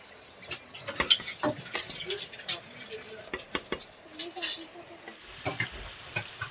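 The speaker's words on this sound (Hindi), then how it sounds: "सारी सब्जियों को अच्छे से मिक्स कर लेंगे हम।" A spoon repeatedly scrapes and clinks against a pan while mixed vegetables and paneer are stirred over gentle sizzling, producing close, irregular strokes for several seconds with no talking.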